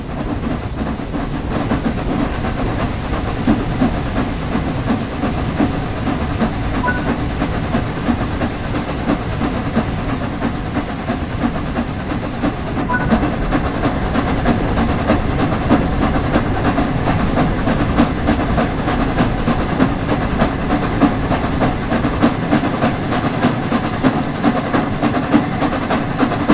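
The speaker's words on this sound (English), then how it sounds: "Now that the locomotive is moving, you can open the regulator some more." The Flying Scotsman steam locomotive moves in Train Sim World 4, making a loud, continuous rumbling chug with rail clatter that holds steady throughout, with no talking.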